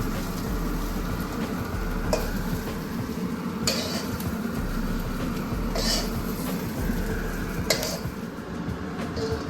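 Onion, garlic, ginger and coriander roasting in a hot pan give a steady, close sizzle with occasional sharper scraping clinks of stirring, continuous throughout without talk.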